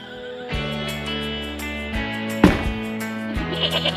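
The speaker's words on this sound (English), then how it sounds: "Goat." A goat bleats over a bright musical background with repeating tones, the animal call rising briefly near the middle amid the tune.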